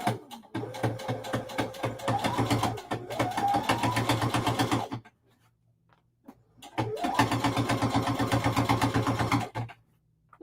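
A sewing machine stitching Kimberbell Enchanted Winter quilt blocks together runs in a steady, close whirring rhythm for about five seconds, stops briefly in near silence, then starts up again for another long stretch.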